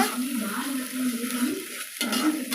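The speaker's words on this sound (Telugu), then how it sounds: "ఇది కొంచెం లైట్ వేయించుకుందామండి" Egg tomato pulusu ingredients frying lightly in a pan, a steady soft sizzle with light stirring that continues throughout and breaks off briefly near the end.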